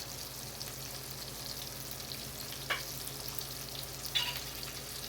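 Meatball sauce sizzles steadily in olive oil in a pan, a constant frying hiss throughout with a couple of brief louder crackles, no talking.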